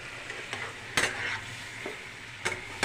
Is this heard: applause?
no